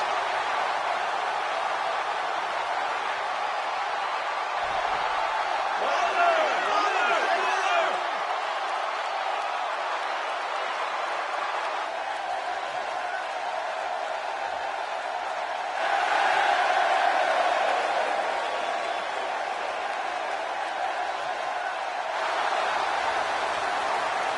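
Video game wrestling arena crowd in Tampa reacting to the Ultimate Warrior, a steady roar of cheering with louder swells, heard under ongoing talk.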